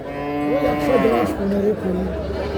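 A GC cow at a large cattle market near the Benapole border in Jashore moos in a long, wavering, close call, with crowd chatter and talk around it.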